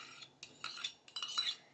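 Chopped egg tipped into a bowl with a few short clinks and scrapes of a spoon against the dish, close and fairly quiet, in bursts with brief pauses.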